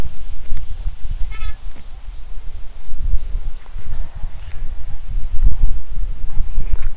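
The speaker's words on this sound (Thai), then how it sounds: "ลมอย่างแรงเลยนะ" Strong wind gusts over open rice fields, a continuous low roaring buffet across the microphone with rustling, loud and steady throughout.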